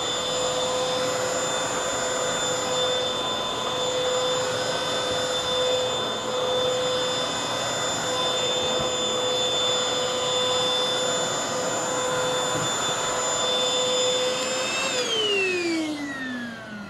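A MOOSOO XL-618A cordless vacuum cleaner runs steadily and loudly with a constant high-pitched motor whine, then winds down near the end as its pitch falls away.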